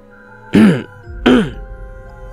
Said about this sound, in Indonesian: Melati berdehem sambil menatap bengis ke arahku